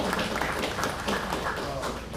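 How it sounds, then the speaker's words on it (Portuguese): A round of applause from a public hearing audience, steady scattered clapping through the whole stretch with some voices mixed in. "Salve de palmas."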